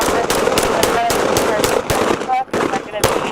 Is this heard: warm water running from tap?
no